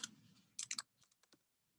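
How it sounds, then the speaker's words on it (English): Quiet typing on a computer keyboard: a short, irregular run of crisp key clicks, several in quick succession, then a few lighter taps trailing off. "let's start typing out Georgetown"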